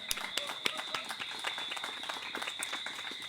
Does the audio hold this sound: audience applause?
yes